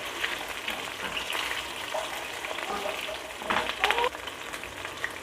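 Chicken pakoda fritters fry in hot oil with a busy, crackling sizzle, swelling briefly louder as the pieces are turned, heard up close with no talk.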